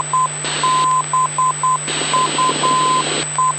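Morse identifier of an ILS localizer coming through a Piper Cherokee's aircraft radio: short and long steady beeps repeating in a clear rhythm over constant hiss and a low electrical hum.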